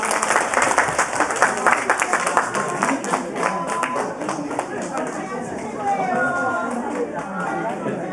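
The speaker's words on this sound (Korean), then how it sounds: "우리 박수 박수 좀 올려드립시다." Church congregation applauding after a worship song, dense sustained clapping from a large crowd with voices mixed in, steady and fairly loud throughout.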